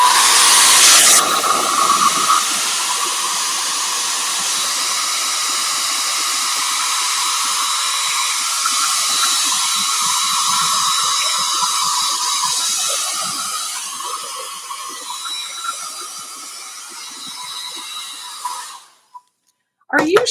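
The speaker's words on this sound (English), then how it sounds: "I'm going to hit the hairdryer again for a sec" A hair dryer blows steadily at close range during a crafting session making fashion plates, with a loud, even broadband hiss and hum that runs for about nineteen seconds before cutting off abruptly.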